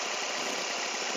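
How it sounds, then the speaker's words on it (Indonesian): A 2005 Toyota Vios Limo engine idles with a steady, even hum and fine rapid vibration, close and constant with no talk. "Kalau mesin halus, ritmenya rata"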